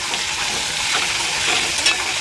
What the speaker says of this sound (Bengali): কচুটাকে ভালো করে ভেজে নেব